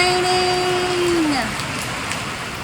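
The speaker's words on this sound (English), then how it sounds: "It's finally raining!" Steady, soft rain falls on a garden as a constant hiss, with a faint whistling tone that slides downward and fades partway through.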